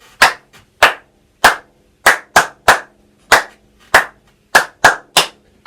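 Hands clap out a simple rhythm of three long beats followed by two quick ones, repeated, loud and close with silence between claps and no voices.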